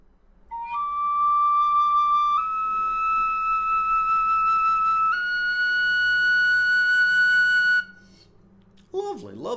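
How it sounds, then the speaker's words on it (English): A Shush Pro High D tin whistle plays clear, sustained notes stepping upward through a short phrase, bright and close, followed by a brief pause and a fragment of a voice. "Lovely tone on both whistles."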